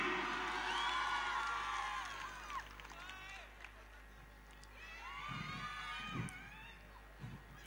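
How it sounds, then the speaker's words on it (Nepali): A crowd at a college event shouts and cheers for Sabin Rai. The cheers are loud at first, fade, then swell again with whoops and bursts of noise, and voices mix in. "सविन राईको लागि जोरदार ताली"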